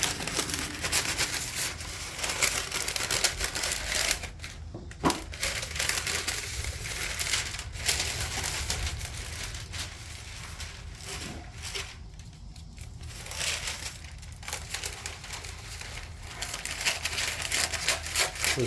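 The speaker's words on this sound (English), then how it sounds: "This is parchment paper." Parchment paper is handled during work on a scale model trawler boat build. Close, continuous crinkling and crumpling goes on for the whole clip, with a few sharper rustles and no talking.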